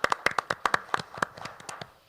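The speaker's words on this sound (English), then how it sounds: "With all this applause you're getting, we're going to have you back each week." A small group of people claps for Miriam at a business tele-town hall, a sparse run of sharp, separate handclaps that thins out and fades toward the end.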